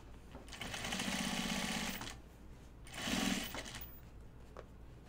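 A sewing machine stitches a seam on a fabric pocket bucket project, with two bursts of steady rapid whirring, a longer run of about two seconds, a pause, then a shorter run of under a second.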